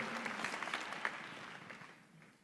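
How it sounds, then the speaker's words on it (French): An audience applauds three speakers at a French-language conference on Africa and France; the clapping is soft and distant, a steady wash of many hands that slowly fades toward the end. "Merci infiniment aux 3 intervenants, que je vous demande d'applaudir s'il vous plaît, pour les remercier."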